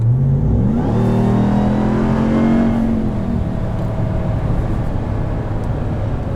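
A 2022 Ram 1500 TRX truck with pulleys and a resonator delete accelerates on a highway, its loud engine drone climbing through gear changes, then settling into steady road roar.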